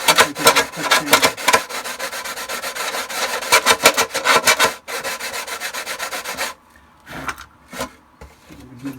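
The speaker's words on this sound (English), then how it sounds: "I am going to just quickly give it a quick sand." Sanding a vacuum-formed plastic Shadow Trooper armor part by hand: steady, raspy rubbing strokes in quick repeated passes, loud and close, pausing near the middle and ending with a few sparse scrapes.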